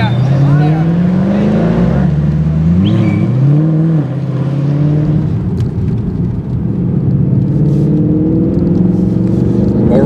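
A Mercedes C 63 AMG Black Series coupé on the Laguna Seca track, its V8 engine droning loudly and rising and falling in pitch through gear changes as it accelerates, a continuous close-up roar.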